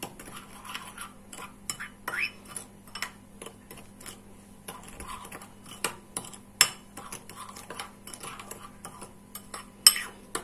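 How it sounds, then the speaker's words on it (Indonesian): A spoon stirs a dalgona green tea mixture in a cup, giving light repeated clinks and taps in an uneven rhythm over a steady low hum, close and fairly quiet. "Coba ini kalau saya aduk dulu gimana?"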